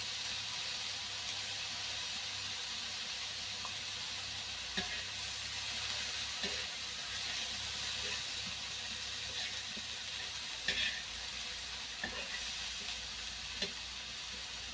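Onion frying in a pan with a pinch of turmeric, a steady broad sizzle and hiss throughout with a few faint stirring clicks, no voices.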